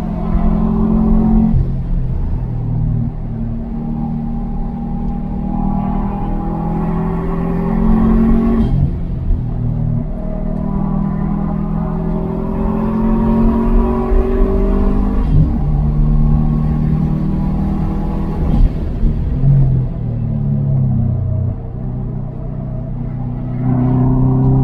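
A Subaru STI runs at high speed on the Autobahn, its engine roaring loud and close inside the cabin, climbing through rising revs in several long pulls and dropping at each gear change under a constant road rumble.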